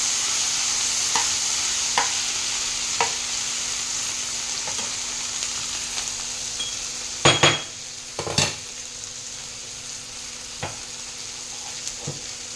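Ivy gourd (dondakaya) sautés in a pan with a steady sizzle throughout, and a utensil clinks and scrapes against the pan now and then, loudest around the middle.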